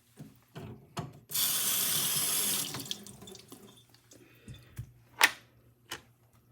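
Water runs from a tap onto a sharpening stone for a razor, a steady loud rush lasting about a second and a half, then a few scattered knocks and drips as the stone is handled.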